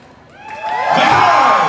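An audience aboard the Icon of the Seas cruise ship swells from quiet into loud cheering, whooping and shouting, building over a second and holding at full volume.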